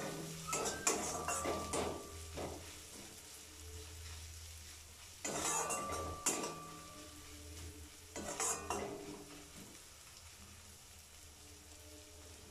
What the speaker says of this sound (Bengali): আবারও সব কিছু মিলিয়ে মিশিয়ে খুব সুন্দরভাবে কষতে থাকব।